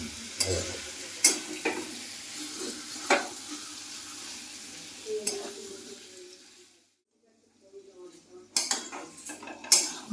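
Pointed gourd and potato sizzling in hot oil in a pan, with a utensil scraping and clattering in sharp repeated strokes, a brief silent gap, then more stirring close by.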